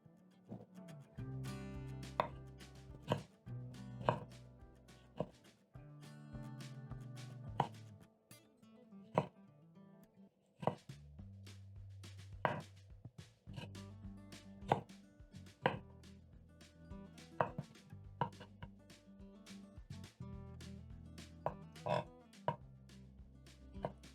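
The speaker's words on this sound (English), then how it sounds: "Stack the tomatoes and cut in half." A knife cuts stacked tomatoes in half on a cutting board, making crisp, irregular chopping thuds in bursts, with music playing underneath.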